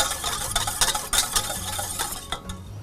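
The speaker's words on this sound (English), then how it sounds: "And we'll just give that a quick mix." Quick mixing of eggless waffle batter with oil and vanilla essence, a rapid scraping and clinking of a utensil against a bowl in short irregular strokes, close and fairly quiet, no talking.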